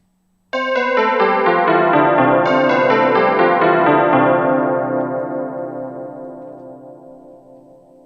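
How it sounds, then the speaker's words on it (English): A synthesized peal of bells from the Quilcom B 2 Belly plugin, many overlapping bell strikes blending into a dense loud ringing wash that slowly fades out, with no voices. "This is a peal of bells"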